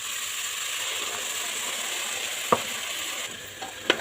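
A spoon stirs coconut-tamarind paste into simmering vatha kuzhambu, a soft continuous bubbling sizzle with a couple of sharp clinks of utensil against the pot near the end.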